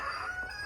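A chicken gives a single brief call, a short, close voiced sound with no other noise around it.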